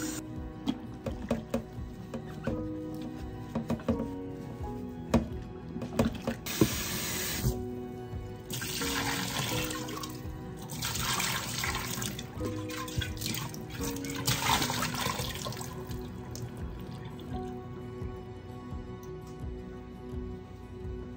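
Hot soapy tap water running while canning jars are washed, heard as quiet spraying and splashing in uneven bursts with some clinks in between.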